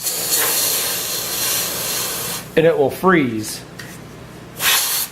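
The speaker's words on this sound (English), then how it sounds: "I take a can of electronics duster, you turn it upside down and spray." A can of electronics duster, held upside down, sprays a steady hiss for a few seconds, cut off as someone speaks briefly, then a short final burst of spray.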